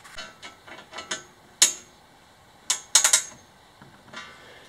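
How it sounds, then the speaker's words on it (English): A tap cuts threads into bolt holes while a roof is being fitted, giving scattered light metallic clicks and ratchet-like ticks, with a few sharper, louder snaps near the middle and no voices. "I'm going to tap them to give them threads so the bolt can screw right into up there"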